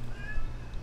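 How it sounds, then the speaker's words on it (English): A cat meows once, a short, clear, moderately near call heard over a low background hum while a Guild Wars 2 game plays. "My cat is meowing."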